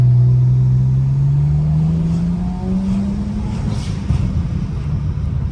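A BMW 335xi with a new exhaust accelerating in sport mode, a loud, deep engine note climbing steadily in pitch as it pulls away, with rumbling exhaust noise trailing behind.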